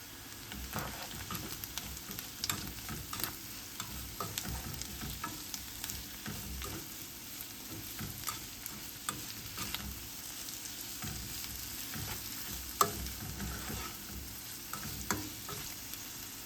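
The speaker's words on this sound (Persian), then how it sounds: "توی یک تابه پیازهامون رو با 50 گرم کره سرخ میکنیم تا جایی که نرم بشن" Red onions fry in butter with sugar in a pan, a quiet steady sizzle broken by repeated scraping and clicking of a utensil stirring, with no voices.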